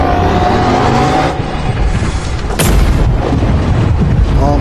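Gun fired in the video game Animal Company, a loud sharp boom at mid-clip cutting through dense rumbling game noise, followed by a continued heavy low roar.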